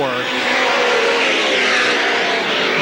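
Stock race cars from 1987 race at Salem Speedway, a loud dense roar of several engines coming out of turn four, with a steady, continuous blare and a faint tire squeal.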